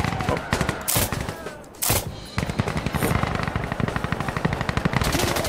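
Rapid bursts of gunfire from a burst-fire weapon in the video game Insurgency Sandstorm, loud close cracks in quick clusters, broken by brief pauses and a couple of heavy blasts.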